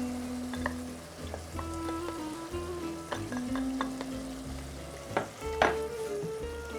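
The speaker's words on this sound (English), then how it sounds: "I've got some crushed tomatoes. Add those." Crushed tomatoes hit a pan of reduced wine for a short rib ragù, giving a soft, quiet sizzle with light stirring clinks and scrapes.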